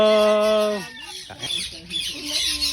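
Loud squawking bird calls with harmonic, nasal tones, a long sustained cry followed by several shorter squawks in quick succession, close by.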